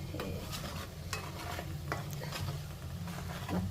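A fish pickle mixture is stirred in hot groundnut oil, with a steady sizzle of frying under repeated scraping and clinking strokes of the spoon against the pan, close and continuous.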